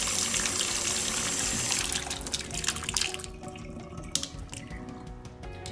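Rinsed pumpkin seeds drain in a sink, water pouring and trickling steadily up close, the rush easing after a couple of seconds into a lighter dribble with occasional drips.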